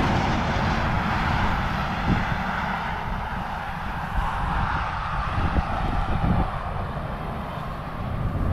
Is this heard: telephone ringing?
no